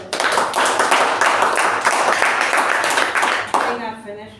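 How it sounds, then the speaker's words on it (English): A Toastmasters meeting audience gives loud, close, sustained clapping, which stops abruptly near the end and leaves a faint trailing tone. "Let's give a huge round of applause for Toastmaster of the Toastmaster Darshan"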